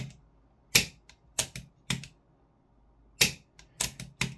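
Sharp dry-fire clicks from a gun trigger breaking, about eight crisp snaps in an irregular rhythm, close and isolated against near silence.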